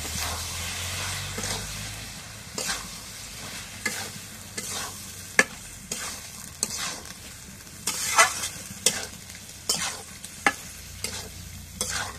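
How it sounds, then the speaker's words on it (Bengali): Goat tripe is stir-fried with spices in a village kitchen, giving a steady sizzle and hiss under repeated scraping and clattering strokes of a spoon against the pan, close and moderately loud with no talking. "এখন পুরিটা রেখে দিয়ে এখন কষায় নিই।"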